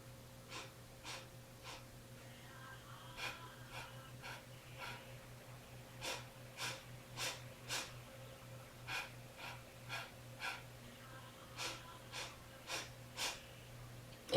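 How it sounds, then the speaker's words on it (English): Rhythmic sniffing breaths during Kundalini yoga breathing practice, short sharp nasal sniffs in quick groups with brief pauses between, close and fairly soft over a faint steady hum. "So we're going to inhale 4 sniffs, exhale 4 sniffs."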